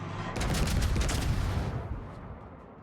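A World of Warships battleship fires a full gun salvo: one heavy, loud boom lands almost at once, followed by a deep rumbling roar that slowly fades over a couple of seconds.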